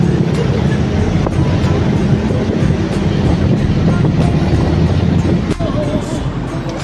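A loud, continuous rumble and rattle of an MRT metro train running close by in the Philippines, with faint clicks and voices buried in the din.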